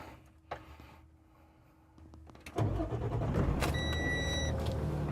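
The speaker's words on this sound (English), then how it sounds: "All right, so this vehicle is started" A Freightliner M2 106 sports chassis hauler truck engine cranks and catches after a couple of small clicks, then settles into a steady, loud, close diesel idle with a faint high tonal whine.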